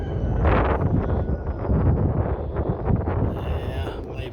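Outdoor wind at about 15 miles an hour buffets the microphone, a steady low rumble and gusty roar that fills the whole stretch with no pauses.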